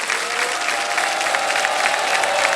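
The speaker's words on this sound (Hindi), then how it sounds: "तालियां बज जाए इनके लिए" Studio audience on the KBC quiz show claps steadily for a contestant, a dense, continuous round of applause that holds at an even level throughout.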